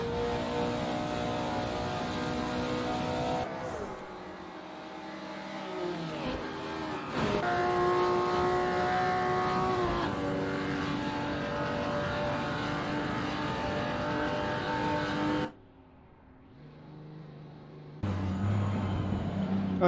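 A Ferrari race car engine in a 2.4-hour Le Mans racing game screams at high revs, its pitch climbing and dropping through gear shifts, then briefly falls away before roaring back loud and close.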